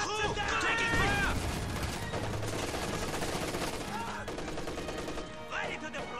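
Battle in the real-time strategy game Company of Heroes 2 with German forces: dense overlapping rifle and machine-gun fire with scattered bursts, mixed under in-game unit voice callouts.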